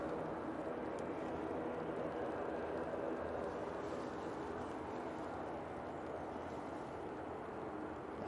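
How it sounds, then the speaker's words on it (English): An Emirates Airbus A380 turning on the ground at Manchester Airport, its jet engines giving a steady, loud, broadband roar that holds evenly throughout with no voices. "This is the Emirates A380 and it's going to be going back to Dubai"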